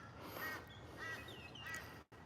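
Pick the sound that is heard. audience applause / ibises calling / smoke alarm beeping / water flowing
ibises calling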